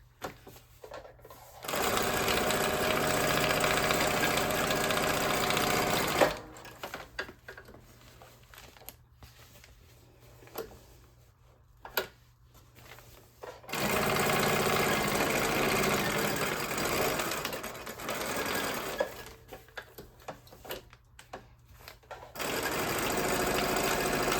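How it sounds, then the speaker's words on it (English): A sewing machine stitches a junk journal cover in long loud bursts, starting and stopping several times, with quiet pauses between runs. "let the sewing machine kind of move organically and just let your hands guide it"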